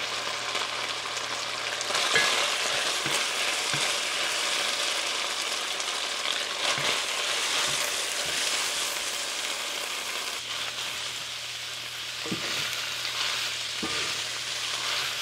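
Vegetables for lumpia shanghai filling sizzle loudly in a hot pan, a steady close frying hiss broken by repeated scraping clicks of stirring.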